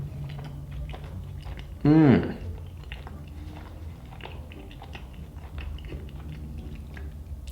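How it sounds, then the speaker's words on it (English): A close, juicy bite of Taco Bell food is chewed right at the mic, with a brief approving hum and some talk around it. "Let's take a good bite of that plate."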